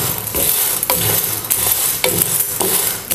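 Sago, peanuts and chilies dry-roast in a pan over low gas, with repeated scraping and clinking strokes of a utensil against the metal in an uneven rhythm, close and fairly loud.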